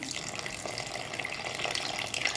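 Steady running water, a thin stream poured into flour for chapati dough, continuous and close for the whole stretch.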